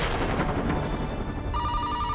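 A telephone rings steadily in a home, its repeating electronic ring continuing for about two seconds with a higher pulsing tone joining near the end, loud and close with no talk over it.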